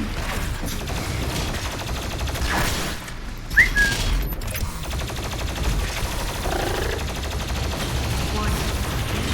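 Sustained gunfire from the FG 10,000 weapon in a video game, a dense, continuous rattling barrage that runs loud and steady from start to finish, with a short whistle-like tone partway through.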